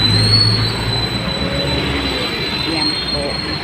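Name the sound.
MRT train moving on rails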